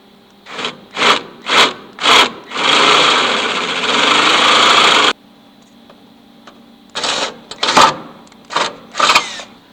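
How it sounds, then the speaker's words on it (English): A drill fitted with a 17/32 bit opens up holes in a fender bracket for a Jeep JL Wrangler or JT Gladiator: short whirring bursts, then a long continuous grinding run, then more quick bursts, close and loud. "we're going to take this bracket back off so we can open up those holes with a 17/32 drill bit"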